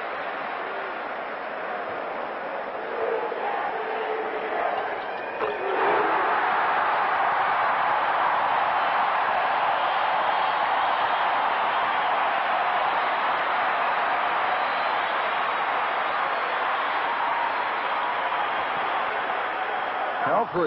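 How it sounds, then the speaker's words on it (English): Arena crowd at a 1989 Kansas versus Kentucky college basketball game breaks into a sustained roar after a few seconds and keeps rumbling loudly throughout, with a commentator talking over it. "And we'll have our 18th crowd roar of the day."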